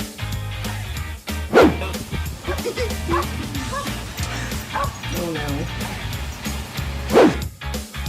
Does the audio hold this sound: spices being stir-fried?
no